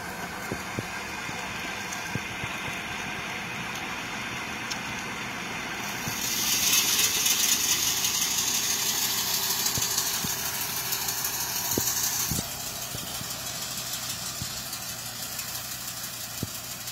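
Tractor engine idling on a farm field during corn planting, a steady low mechanical rumble with a slight rise in intensity midway, continuous and fairly close with no talking.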